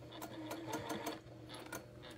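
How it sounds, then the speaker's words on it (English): A sewing machine stitches a feather leaf quilt block, its fast rhythmic needle chatter running steadily and fairly close, with a brief pause and a few sharper clicks. "Sewed over the pin."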